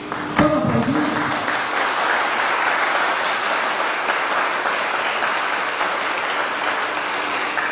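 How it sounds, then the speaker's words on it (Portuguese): Church congregation applauding during a Catholic homily, a dense, steady wash of many hands clapping that starts abruptly and holds evenly throughout. "Pode aplaudir?"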